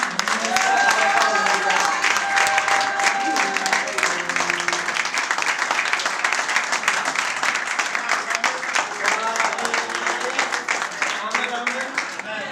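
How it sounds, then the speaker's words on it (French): A church congregation at an evangelical Sunday service cheers and applauds the women, with loud sustained clapping and shouting from a large crowd over background music and voices. "Acclamez fortement les femmes."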